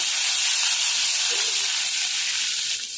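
Garlic and grated ginger sizzle and roast in a pan, a steady close hiss that holds evenly throughout with no talking.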